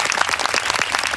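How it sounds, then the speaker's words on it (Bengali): A group claps hands in a brief, dense burst of quick overlapping claps, close and fairly loud, for the winners of a game. "সবাই হাততালি দাও"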